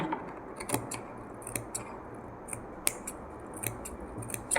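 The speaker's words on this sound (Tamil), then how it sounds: "இந்த பகுதியில் லைட்டாக இப்படி கட் பண்ணி விட்டுடுங்க" Scissors snip through blouse fabric along the curved neckline, a series of short, crisp cuts spaced irregularly and heard close up with no talking.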